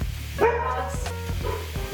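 A dog barks a few times close by, with short yips and whines mixed in.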